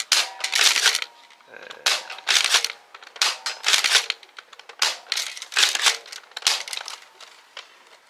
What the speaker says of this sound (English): We're going to first shoot without slam fire, and then we're going to shoot with slam fire.